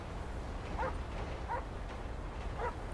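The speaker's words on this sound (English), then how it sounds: "Sure is barking a lot." A police K9 dog named Ace in a GTA V LSPDFR game barks or yips in three short bursts spaced about a second apart, set against a steady low rumble of background noise.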